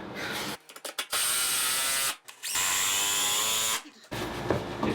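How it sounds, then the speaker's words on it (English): A power driver whirs in two sustained bursts as a screw is driven into a new wooden floor joist while sistering damaged joists, loud and close, with brief pauses between. "I'm gonna throw a screw in there."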